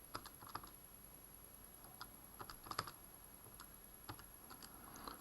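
Quiet clicks from someone pressing a calculator's buttons, a sparse run of short taps with irregular gaps, close and faint over a soft background hiss.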